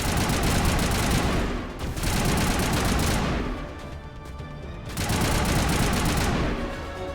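Sustained rapid gunfire from the video game Mass Effect, dense and loud automatic bursts in long stretches with a brief lull in the middle, no voices.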